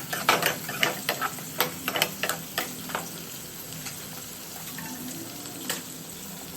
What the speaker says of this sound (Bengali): এদিকে মাছগুলো ভাজা করছি।